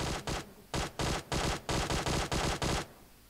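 Rapid bursts of automatic gunfire in the survival video game DayZ, seven or eight loud, close volleys in quick succession with brief gaps between them, ending abruptly.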